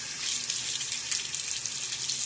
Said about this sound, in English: we'll give a good rinse now, clean up my gear